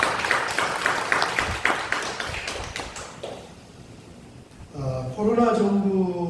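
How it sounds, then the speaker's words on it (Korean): A church congregation applauds, with a burst of dense clapping that fades after a few seconds, followed by a voice speaking over the room. "박수로 한번 축하드립니다."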